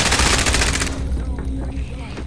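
Rapid automatic gunfire bursts loud and close in Call of Duty: Modern Warfare, a dense fusillade that thins out after the first second, with a voice speaking over it.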